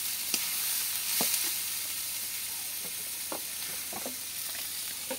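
Onion frying in a pan, a steady bright sizzle close by with a few soft stirring scrapes scattered through it and no voices.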